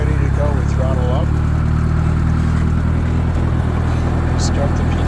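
A tractor engine rises as it throttles up to run a hay baler in a field, a steady loud rumble close by with a voice over it.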